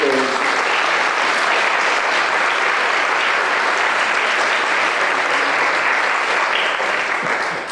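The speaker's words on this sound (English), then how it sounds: "maybe we could just have an extra round of applause, please, for our flautist, Natasha Davis." Concert audience applauding a flautist at a remembrance concert: dense, sustained clapping from a large crowd, loud and steady for the full span before easing slightly at the end.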